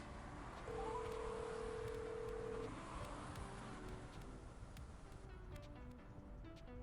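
A quiet call-dialing tone plays as an effect in an audiobook, a steady electronic beep lasting about two seconds, then fading into soft background noise.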